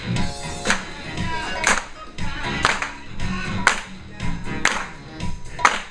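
Class participants clap along in a steady rhythmic beat, sharp hand claps repeating about once a second at close range, with a voice mixed in underneath.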